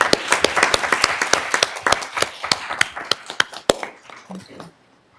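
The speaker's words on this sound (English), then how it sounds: "if you'll please join me in giving her a warm round of applause and welcome" Warm round of applause at a Sacramento City school board meeting, many hands clapping together with sharp individual claps standing out, gradually thinning and fading into quiet.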